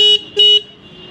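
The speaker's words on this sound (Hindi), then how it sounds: "तो ये हॉर्न का साउंड हो जाता है" A KTM RC 125 motorcycle's single horn gives two short, loud, high-pitched beeps close by, the second slightly longer than the first, with a faint engine hum underneath.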